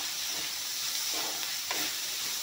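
Black pepper powder and salt sizzle in a hot pan of frying spices, a steady close hiss broken by two soft stirring scrapes, with no voices.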